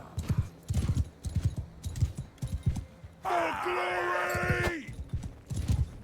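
A horse's hoofbeats thud in a quick, regular gallop during mounted riding in Mount & Blade II: Bannerlord. The hooves sound close and moderately loud, and a brief tonal cry rises partway through.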